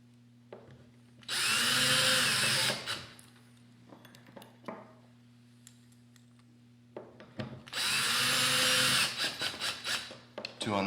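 A power screwdriver drives screws into the plastic handle of a Dupray Neat steam cleaner, two loud whirring bursts of a few seconds each, separated by quieter handling clicks and taps close by.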